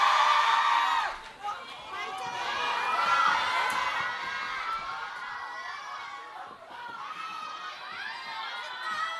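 A large audience at a K-pop comeback showcase for a singer's first album erupts in sustained cheering, screaming and applause, loud and dense throughout, dipping briefly before swelling again.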